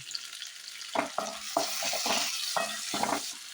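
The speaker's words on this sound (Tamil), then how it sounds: "தக்காளியை போட்டு நல்லா வதக்குங்க." Tomatoes with onion and chili sautéing in a pan, a steady close sizzle under repeated scraping and stirring strokes that come in short bursts.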